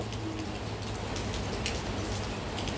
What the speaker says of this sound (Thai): เจอ ฝนสาด